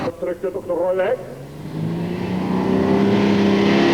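The 4.4-ton Superstock pulling tractor Delta Power from Finland revs at the 1996 European Tractor Pulling event in Hörby, Sweden, in the rain. A commentator talks briefly, then the engine's loud drone climbs steadily in pitch and holds.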